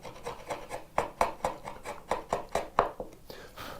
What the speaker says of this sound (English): I'm just skimming the sides of it. The groove is actually holding the chisel in place.